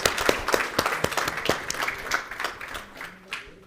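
A crowd applauds at an expo launch event in Mumbai, with dense, continuous clapping and sharp individual claps standing out, moderately close and steady throughout.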